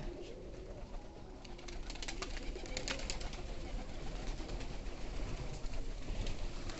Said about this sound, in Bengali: দেখেন, কবুতরটা খুব সুন্দর ডাকতেছে।